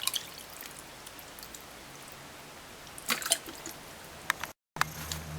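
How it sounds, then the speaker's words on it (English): Water poured over raw turkey neck pieces to rinse them in a kitchen, a quiet steady trickle broken by a few louder splashing drips and sloshes toward the end. "add water. We're going to rinse it."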